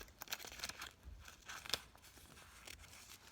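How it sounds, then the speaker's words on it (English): Scissors cut through a folded paper chain, faint snipping and crinkling of paper in a few quick bursts, close and quiet. "You have this line and you're going to cut it up to the line."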